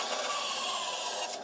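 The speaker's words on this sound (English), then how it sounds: "Just sanding the ends here to get a little bit of a tighter fit around the thing." Close, continuous rasping of sandpaper over the ends of small wooden pieces for a sword prop, a short steady scrub with no voices.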